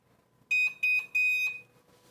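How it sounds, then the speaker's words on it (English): Timer alert on an Epson SureColor F570 heat press pressing a cutting board at 400 degrees: three loud, clear electronic beeps in quick succession, the last held longer, close by with no talk. "when the timer is done, it will alert us."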